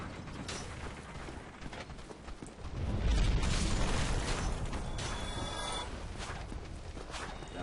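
Heavy armored metal boar from Dark Souls lumbering nearby, a grinding mechanical clank and rumble that swells midway into a loud low thud-heavy rush, over game ambience with no talk.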